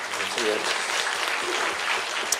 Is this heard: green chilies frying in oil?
no